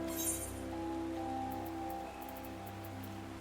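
Rain in Final Fantasy XIV falls as a soft, steady patter under sustained in-game music tones, quiet and continuous throughout.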